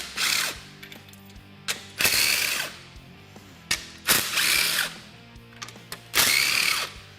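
A ratchet taking the fan off an OEM radiator on a Polaris General, four bursts of rapid clicking cranks separated by short pauses, close and loud.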